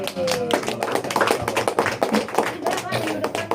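Enthusiastic applause from a group, dense clapping throughout with voices mixed in underneath.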